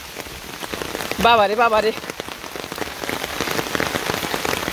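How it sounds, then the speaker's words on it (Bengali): Monsoon rain pours steadily onto surfaces in a Bangladeshi village, a dense close patter throughout, while a voice briefly exclaims in a high tone over it. "কি সুন্দর বৃষ্টি নামছে।"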